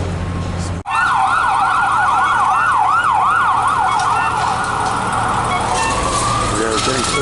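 An emergency siren wails loudly nearby on a city street near Main and Hastings in Vancouver, cycling up and down rapidly, then shifting to a slower rising tone over street traffic noise.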